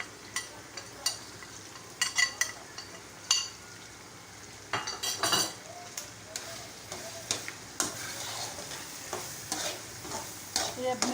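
Dried red chili, dried coriander, ground garam masala and turmeric fry in oil in a pan while being stirred, with a steady sizzle broken by repeated scraping and clinks of a spoon against the pan, close and moderately loud, with no talk.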